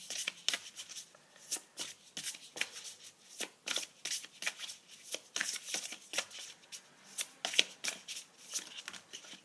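Tarot cards being shuffled by hand, a rapid series of crisp riffling bursts and soft slaps repeating in an uneven rhythm, close and fairly quiet, with no talking.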